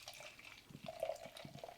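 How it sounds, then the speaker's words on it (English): Trillium DDH Olmsted IPA, a hazy New England IPA, being poured into a glass: a quiet, steady trickle with faint bubbling and splashing, close and alone. "All right, let's get this poured."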